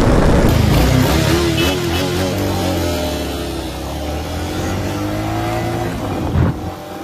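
Motorcycle in a drag race between a Hunter 350 and a Pulsar RS 200, the engine loud and close, rising and shifting through gears with pitch sweeps and a brief burst near the end.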